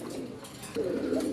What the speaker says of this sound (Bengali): একজোড়া দেশি গোল্লা কবুতর, যাকে অনেকে আদর করে রাজগোল্লা বলে থাকে